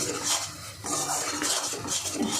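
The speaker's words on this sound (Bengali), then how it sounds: "এটা কিন্তু এরকম অনবরত নাড়তে হবে, নাড়তে নাড়তে ভাজতে হবে, না হলে নিচে লেগে যাবে" Shrimp and pointed gourd paste is stirred and fried in a pan without pause, giving a steady run of scraping and clinking of a utensil against the metal, with no voices.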